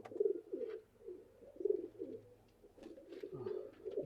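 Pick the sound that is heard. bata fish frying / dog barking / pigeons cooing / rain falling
pigeons cooing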